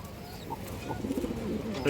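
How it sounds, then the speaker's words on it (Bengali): A female pigeon coos softly a few times at close range, low rounded calls over a quiet background. "খুব সুন্দর একটা মাদি কবুতর এটা"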